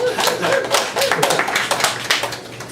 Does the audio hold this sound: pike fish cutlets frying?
no